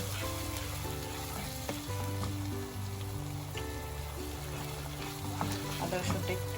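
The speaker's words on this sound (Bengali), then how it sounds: "আদা রসুনটা একটু কষালে একটু গন্ধটা চলে যায় আর তেলের ভিতরে" Ginger garlic paste sizzles in hot oil for a shrimp kofta malai curry, a continuous close frying hiss beneath prominent background music.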